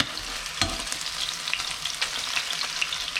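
Beer-battered squid fry in a pan of hot oil with a steady close sizzle, broken by crackles and spits and a brief knock near the start.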